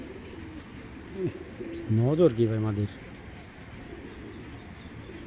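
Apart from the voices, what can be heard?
Giribaz pigeons cooing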